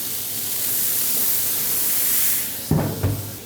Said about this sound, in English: Maybe throw a little water in there. little steam.